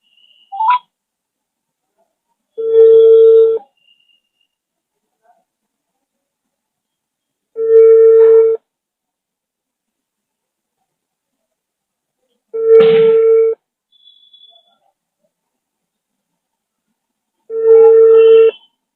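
Four long ringback tones on a telephone call, spaced about five seconds apart and heard clearly with silence between them.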